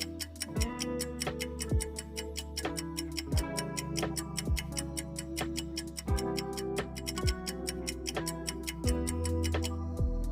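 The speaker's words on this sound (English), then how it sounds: "A clock has hands" A clock ticking in a steady, even rhythm, each crisp tick clear and close against a sustained musical background, with no speech.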